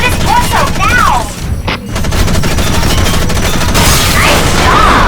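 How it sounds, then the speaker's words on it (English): Rapid bursts of heavy mech weapon gunfire in the Xbox 360 game Front Mission Evolved, loud and sustained, with a brief gap before firing resumes amid sweeping in-game effects. "Shoot his torso now!"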